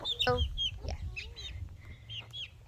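Cornish hens and turkeys cluck and chirp from a farm lean-to in a series of close, uneven calls over low background rumble.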